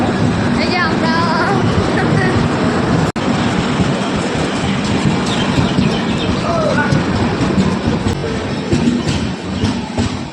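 A train passing close by at a station, a loud, dense rumble and clatter that fills the whole span and eases slightly toward the end.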